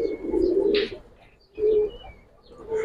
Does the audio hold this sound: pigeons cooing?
yes